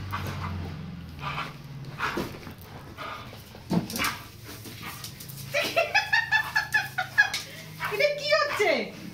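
A dog whimpers and gives short barks, its high whines rising in quick repeated bursts near the end, close by, while people talk around it.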